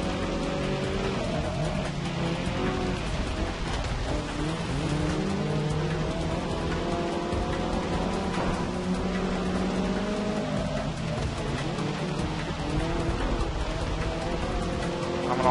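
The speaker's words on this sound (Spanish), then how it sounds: "Qué chula la lluvia." Steady rain hiss with a racing car's engine droning and shifting pitch throughout, in the video game Forza Motorsport 6, continuous and fairly loud, no voices.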